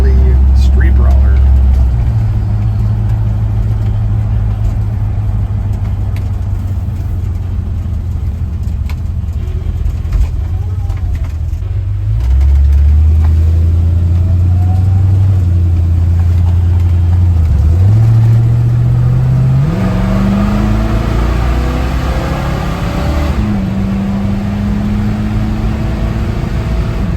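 Ford 302 V8 with an Edelbrock RPM Performer intake and a 600 CFM Holley carburetor in a 1952 Ford F1 pickup, droning loud and steady while shifting up through gears, with repeated rises in pitch as it accelerates.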